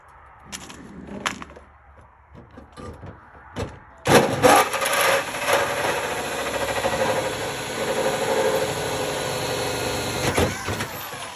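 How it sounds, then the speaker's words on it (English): A few scattered knocks and clunks, then a large power drill whirs continuously and loudly up close, drilling the hood of a third-generation Dodge Ram Mega Cab Cummins truck, its pitch wavering slightly as it bites in. "we'll use a big boy drill for that"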